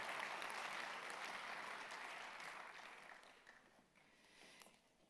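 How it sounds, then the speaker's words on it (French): Audience applause for panelists at the opening plenary of a French-language climate conference, fairly quiet and distant, starting full and gradually fading to scattered claps. "Nous pouvons applaudir tous nos panélistes"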